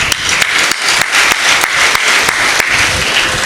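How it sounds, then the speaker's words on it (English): Applause at a Rotary district installation ceremony, a dense burst of clapping from a crowd with sharp individual claps standing out, loud and continuous for a few seconds. "will you please join me in applauding them?"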